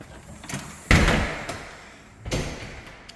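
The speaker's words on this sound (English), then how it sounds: "got a glass door." A glass door in a house entryway swings and shuts, with a sharp thump near the start followed by a softer closing knock a moment later, close by and otherwise quiet.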